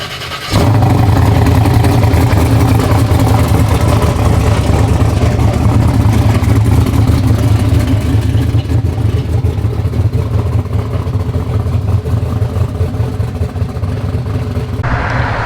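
Methanol-fueled 2000+ hp Black Sheep engine with a mechanical fuel pump and all-billet torque tube fires up after a brief pause and runs loud and rough, with a heavy, steady rumble throughout.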